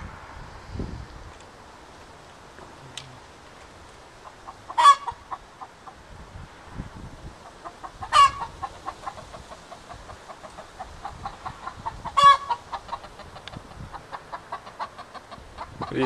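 Domestic chickens in a backyard, soft continuous clucking and murmuring with three sharp louder calls spaced a few seconds apart, close by over a low breezy background.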